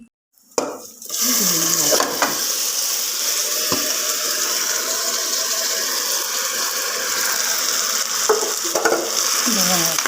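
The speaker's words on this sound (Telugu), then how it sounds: "ఒకసారి 1 నిమిషం ఇలా వేసుకొని వేపుకోవాలి." Split moong dal frying with curry leaves and black pepper in a pan, a steady close sizzle with occasional stirring scrapes and clinks of a utensil against the pot, continuous after a brief silent start.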